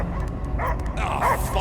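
Dog barking in the video game Guardians of the Galaxy, heard as a couple of short yips and barks over a rumbling game soundscape.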